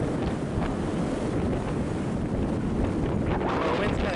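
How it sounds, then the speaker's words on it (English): Wind roars steadily across the microphone while riding a Rad Power e-bike into a south headwind, a loud, constant buffeting rush with no breaks. "The wind's kind of kicking my butt back a little bit."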